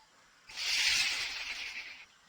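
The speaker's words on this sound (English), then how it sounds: "Snake." A snake hisses in a kids' animal puzzle video game, one sustained breathy hiss of about a second and a half, loud and alone with no talk.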